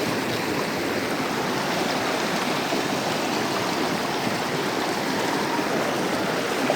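Cold river water rushes steadily past in a forested stream, a loud, continuous broadband roar with no pauses and no voices.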